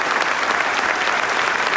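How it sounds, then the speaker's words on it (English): Ceremony audience at a police recognition event giving a big round of applause, dense continuous clapping throughout the short stretch, with no voices above it. "Another big round of applause"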